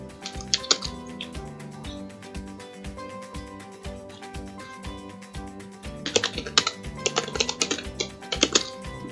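Keys clatter on a computer keyboard while a Python script is written, giving a steady run of soft taps that turns into quicker, sharper bursts of typing near the end.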